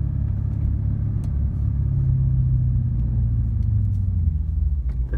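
Lexus IS F V8 engine roaring at sustained high revs while racing a BMW M3 E92, a steady loud rumbling drone from inside the car that holds throughout with slight rises and dips.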